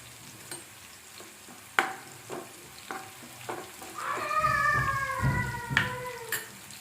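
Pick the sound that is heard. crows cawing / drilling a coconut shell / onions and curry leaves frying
onions and curry leaves frying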